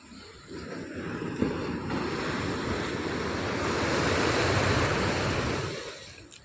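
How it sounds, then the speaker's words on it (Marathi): Ocean waves wash onto Baby Beach in Kannur, Kerala in a continuous surging roar that swells and fades gently, with some wind buffeting the microphone and no speech. "शांत वातावरण, लाटांचा छान आवाज"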